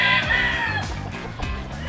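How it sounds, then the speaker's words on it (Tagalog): Chickens squawk and cluck in agitated bursts as they fight on a farm range, with crowing and scuffling close by, several birds calling over one another throughout. "Pag mga naglalaban ah, naglalaban na yung manok"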